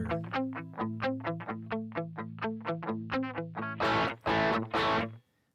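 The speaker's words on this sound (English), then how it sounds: "the squish is a distortion triggered compression" An electric guitar plays through a Quilter Elevate gain block with squish distortion-triggered compression: a quick run of evenly picked distorted notes, then two loud sustained crunchy chords that cut off abruptly.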